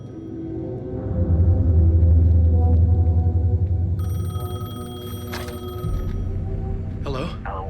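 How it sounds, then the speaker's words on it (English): A telephone rings in the video game Alan Wake 2, a bright repeating trill that enters midway over a heavy low rumble and ambient drone, with a brief voice near the end. "Phone was ringing."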